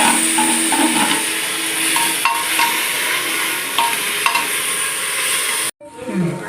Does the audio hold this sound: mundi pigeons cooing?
no